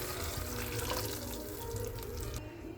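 Rasam liquid pours into a tempering pan, a short continuous splashing gush that runs steadily and then thins out at the end.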